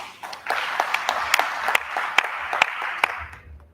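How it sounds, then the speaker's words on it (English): A round of applause rises from the audience at a crop science society conference in Nigeria, scattered distinct claps over a steady wash of clapping, moderately loud, tapering off at the end. "A round of applause for you, please."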